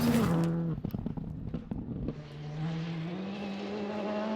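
A Skoda Fabia rally car on a British Rally Championship stage at Carlisle, engine note rising and falling through gear changes, then a sustained high rev as it drives on, with no talk.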